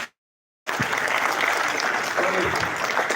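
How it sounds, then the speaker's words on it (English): Applause from an audience at a live-streamed gathering bursts in after a brief silence and carries on steadily, with faint voices mixed into the clapping. "So we all welcome and clap our hands."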